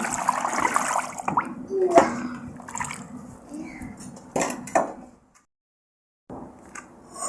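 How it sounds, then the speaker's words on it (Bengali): Raw sacrificial Eid meat being washed by hand in water, with splashing and sloshing bursts over the first five seconds, a brief silence, then more water handling close by. "মাংসটা খুব ভালোভাবে ধুয়ে পরিষ্কার করে নিয়েছি"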